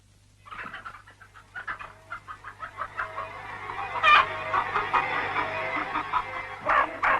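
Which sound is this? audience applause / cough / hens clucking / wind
hens clucking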